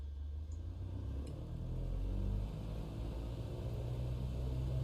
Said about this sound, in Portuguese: E agora vamos dar potência total aqui no motor.